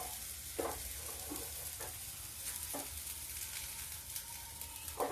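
Lauki and baingan bade frying in a small amount of oil in a pan over lowered heat, with a steady broadband sizzle and a few brief crackling bursts from stirring or moving the fritters. No one speaks.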